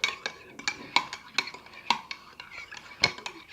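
A spoon stirs yogurt sauce in a bowl, its utensil scraping and clinking against the sides in a steady, uneven rhythm of close, crisp taps with no talking.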